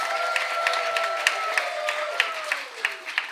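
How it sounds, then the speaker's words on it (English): Audience applause at a climate change and waste sector conference, moderate clapping from a crowd with some distinct louder claps, accompanied by a sustained gliding tonal hum or feedback beneath it. "Can you give a big round of applause to yourselves, please?"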